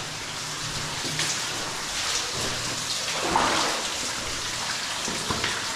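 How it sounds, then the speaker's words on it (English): Water runs and splashes steadily down a barely flowing cave waterfall, a broad, even wash of sound that stays close and continuous, with a few slightly louder surges and no voices. "I gotta go up this waterfall. Oh, I'm so happy that it's barely running today."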